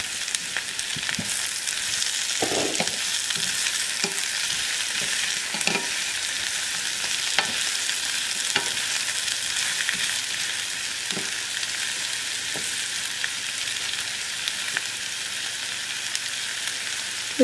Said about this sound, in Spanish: Ahora adicionamos los champiñones.